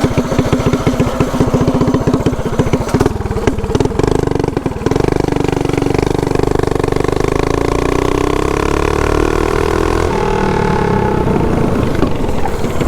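A small single-cylinder mini bike engine running rough and slightly bogging, loud and close, holding a steady drone with a brief rev near the start and no talk.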